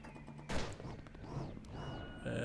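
Gunfire in the 2D side-scrolling game Cobalt: a sharp shot burst followed by lighter zapping, pinging weapon effects, moderately loud amid game sounds.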